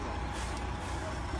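A giant livestock truck rolls past with a steady, loud engine drone, and a short air-brake hiss rises about halfway through.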